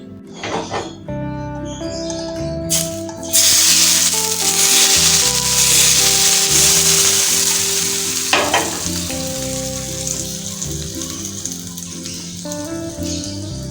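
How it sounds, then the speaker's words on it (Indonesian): Hot cooking oil hits ground anchovy sambal seasoned with bouillon powder and sugar, erupting into a loud, sustained crackling sizzle that fades slowly, over a steady musical background. "sebelum kita masukin minyak goreng panasnya, kita masukin dulu Royco, lalu gula, baru kita masukin minyak goreng panasnya."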